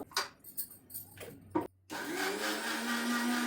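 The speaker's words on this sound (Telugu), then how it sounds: "పప్పులు అనేవి బరక బరకగా గ్రైండ్ చేసుకున్నాము ఇంకొంచెం గ్రైండ్ చేసుకోవాలి" A mixer grinder grinding roasted lentils whirs up to a steady loud motor whine after a few short knocks and pulses, running on alone without speech.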